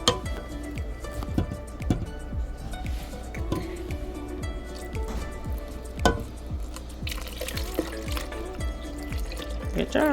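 Milk is poured into a pot of heated homemade organic hot chocolate, with a steady liquid trickle broken by small plops and drips near the microphone, and no talking.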